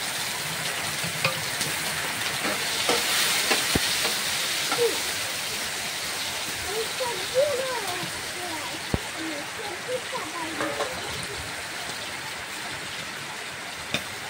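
Chopped ginger sizzles in oil for mung dal, a constant close frying hiss with light stirring scrapes, while someone speaks over it.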